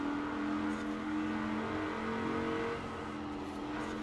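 A Rover SD1 with weight reduction and race suspension, driven in Forza Horizon 4, revs hard under full throttle with a steady, droning engine note. The sound holds close and sustained for several seconds with no talk.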